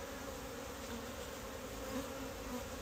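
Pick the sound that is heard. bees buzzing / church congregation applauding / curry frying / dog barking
bees buzzing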